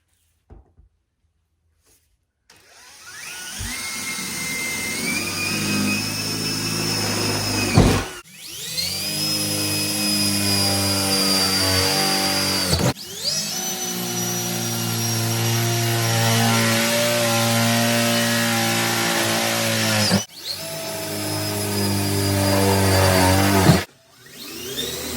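Power drill boring a hole through the roof of a Chrysler pickup truck, a loud continuous whine held in long runs that stop and restart several times, with brief pauses between bursts and no talking.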